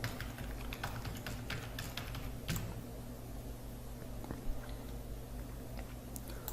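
Rapid keystrokes tap out an Aadhaar card number on a computer keyboard, a close, dry clatter of uneven clicks over a low background hum.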